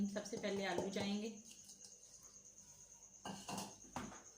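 Boiled potatoes tipped into a bowl for homemade aloo pakoriyan chaat, giving a couple of soft clinking thuds against the dish near the end, after a stretch of speech.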